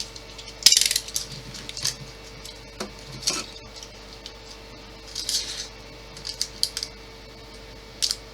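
Small screws being worked out of a Spitfire Mk 1A model kit by hand, giving close, faint ratcheting clicks and light metallic ticks in an irregular scattered rhythm, with no talk.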